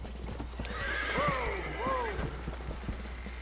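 A horse in Red Dead Redemption: Undead Nightmare gives a fairly clear, rising-and-falling neigh in two whinnying phrases, with hoof clip-clop beneath and a low steady hum, no voices heard.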